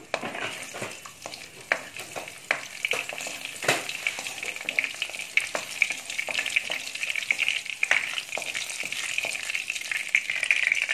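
Steady crackling sizzle of whole cumin seeds frying in hot oil, close by, with scattered sharp pops throughout and no talking.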